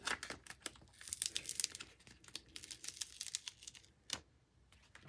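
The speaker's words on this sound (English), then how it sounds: "And we'll transfer it to the transfer tape." Vinyl decal being pressed and lifted onto transfer tape for a Cricut craft makes a flurry of close, crisp crinkles and sticky peeling crackles, irregular and busy, with a few sharper snaps and no talking.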